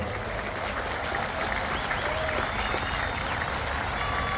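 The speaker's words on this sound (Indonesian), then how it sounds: "Tepuk tangan buat warga PKS semua" Crowd applause at an outdoor PKS political rally at a Cibubur campground, a dense, steady wash of clapping lasting throughout at fairly even loudness.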